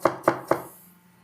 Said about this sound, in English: Got our florets. Just gonna finely shred them.